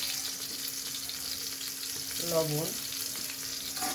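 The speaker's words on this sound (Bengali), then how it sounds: "পেঁয়াজ মরিচগুলো ভালো করে ভেজে নিচ্ছি।" Onions and green chilies frying with turmeric in a pan for a vegetable pulao khichuri, a soft continuous sizzle with occasional stirring under a faint background tone and a brief spoken word.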